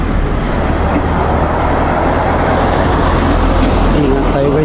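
Heavy road traffic with large trucks rumbles past on a coastal road, a loud constant low engine roar close by with wind noise and no pauses.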